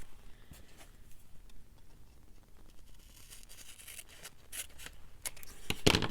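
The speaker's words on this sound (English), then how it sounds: "So I'm just going to trim it right there." Scissors trim a black and white digital photo print, a few short quiet snips and paper rustles close by, with a sharper crisp cut near the end.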